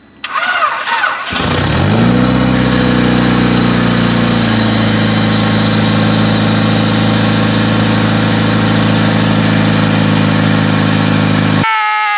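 A Honda car engine with an aftermarket distributor cranks, catches and settles into a steady, loud idle that hums evenly for several seconds before cutting off.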